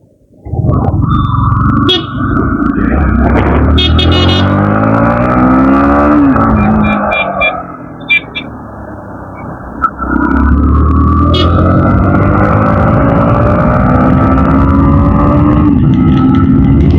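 Yamaha MT-15 motorcycle, new and not yet through its first service, revved hard with the throttle, a loud close engine rising and falling in long sustained pulls with a brief lull before revving again.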